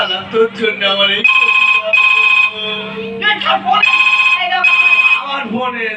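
A phone ringtone chimes in repeated bright, musical bursts close by while voices talk loudly over and between the rings.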